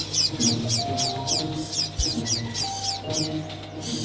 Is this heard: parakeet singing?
yes